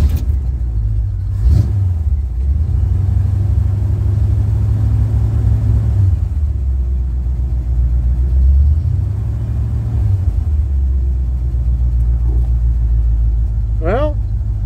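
A car idles while warming up after its fuel sending unit was replaced. The engine gives a steady, close low rumble with slight rises in pitch, and a brief squeal comes near the end.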